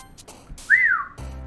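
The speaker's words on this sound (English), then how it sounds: "I whistle and let breath go through" A person whistles a single clear note that rises and then falls, lasting less than a second against a quiet background.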